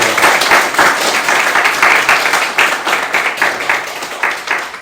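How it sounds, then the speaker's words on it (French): Church congregation applauding during a sermon, a steady dense wash of many hands clapping close and loud, continuous for several seconds with no voices over it. "On peut applaudir."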